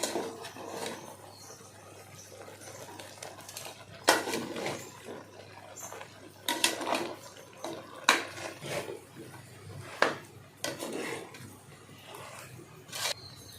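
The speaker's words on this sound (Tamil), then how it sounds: "இதெல்லாம் சேர்த்து இப்போ கலந்து விடலாம்" Masala and ragi flour stirred into a country chicken curry pot, giving intermittent scraping and clanking of a spoon against the metal pot, with sharp knocks spaced every couple of seconds over a soft kitchen background.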